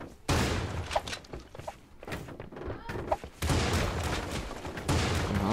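Rapid gunfire bursts in a shooter video game, sharp close shots in quick clusters with brief gaps, mixed with thuds and game sounds throughout.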